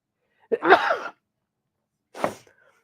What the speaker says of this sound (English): I'm fighting off a sneeze again.